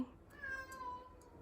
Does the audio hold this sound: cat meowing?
yes